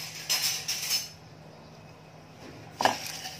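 Whole biryani spices, including mace, are dry roasted in a pan over a medium flame. A spatula gives a quiet run of close clinks and scrapes, then a pause, then another single clink.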